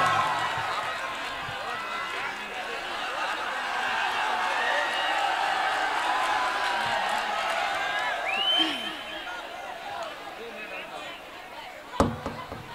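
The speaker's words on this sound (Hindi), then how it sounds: "तालियां बजाकर एक मर्तबा इस्तकबाल करें मोहतरमा सुल्तान जहां।" Crowd at a mushaira poetry gathering welcomes poet Sultan Jahan with a dense, sustained wash of applause and murmuring that swells and fades over the clip, ending in a sharp clap-like hit near the end.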